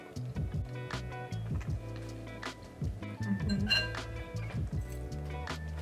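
A metal fork clinks against a dinner plate of home-cooked braised lamb and couscous, several light, bright taps and scrapes spread over a few seconds beneath soft background music.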